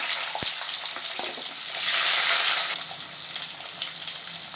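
Small onions (shallots) tossed into hot oil for a garlic kuzhambu, a loud bright frying sizzle that surges in the middle and settles, with a sharp knock at the start.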